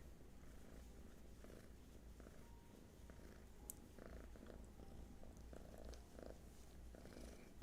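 A cat purrs close by in a quiet room, a soft, continuous low rumble that pulses gently with each breath and holds steady throughout.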